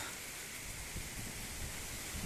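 Heavy rain pours at an apiary in a dense, steady hiss, with gusty wind rumbling underneath.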